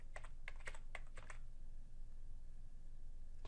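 Quick burst of keystrokes on a computer keyboard as a name is typed, about eight close, light clicks over roughly a second and a half, followed by quiet room hum.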